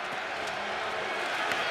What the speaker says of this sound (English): Crowd getting into it on 3rd and 5 for Arlington.